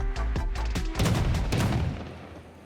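Shotgun blasts ring out in Rust, the survival video game, in a close, loud rapid series of booming shots that fade into a reverberant tail.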